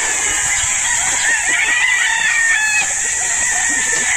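Gamecock stags on a farm crow loudly and close, with overlapping calls and clucks from several birds over steady background noise.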